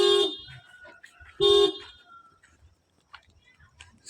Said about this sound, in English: So there's a vehicle there hooting.